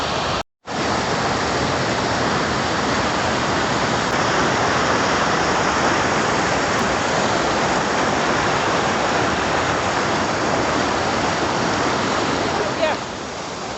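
Loud, steady rush of a fast-flowing mountain stream on the Pindari Glacier trek filling the scene, a broadband roar that continues almost unbroken after a brief drop near the start.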